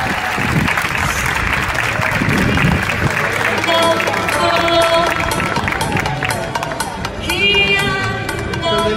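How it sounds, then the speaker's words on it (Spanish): A large audience at the Rey México 2023 regional-costume pageant applauds loudly and steadily for a contestant from Chiapas, with cheers and shouts over the clapping and an amplified voice speaking throughout. "Fuerte el aplauso para despedir a Mr. Chiapas"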